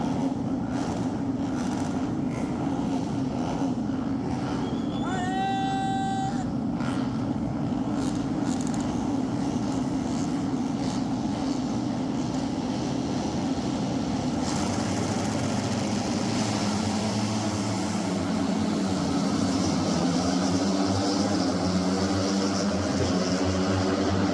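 Moto3 race motorcycles roar off the start at the Le Mans MotoGP, a dense, continuous engine drone with a rising whine partway through as the pack accelerates away.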